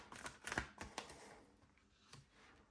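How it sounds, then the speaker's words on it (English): Tarot cards are shuffled by hand in a quick flurry of soft riffling clicks and slaps that fades into quieter scattered rustles, faint and close with no voices. "like you just saw me doing all this shuffling"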